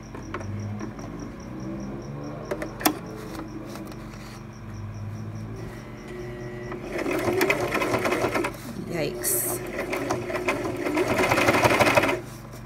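A Brother LX 3817 sewing machine stitches a thick denim seam, its needle running in a steady rapid whir that grows louder and more labored toward the end, with quiet talk underneath.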